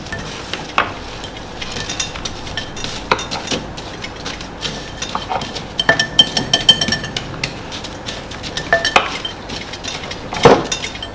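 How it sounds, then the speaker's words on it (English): A whisk scrapes and clinks around a bowl as crushed meringue is stirred into a mixture, with irregular taps and rattles of metal against the bowl, close and moderately loud. "After you've crushed up all the meringue, you add it to the mixture. You can carry on whisking."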